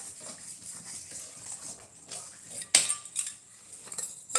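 A utensil scrapes and clinks against a pan while batter is stirred over a low gas flame, quiet scraping building to a few sharper metallic knocks near the end, with no talk.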